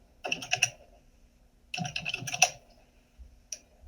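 Two short bursts of fingers typing on a computer keyboard, soft and close, with a single faint click afterward and near silence between.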